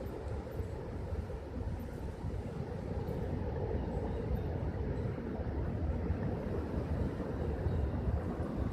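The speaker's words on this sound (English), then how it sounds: "But the wind is really picking up over here." Strong outdoor wind during a severe wind event in Evansville, Indiana, a steady broadband roar and rumble buffeting continuously at close range with no pauses, no talk.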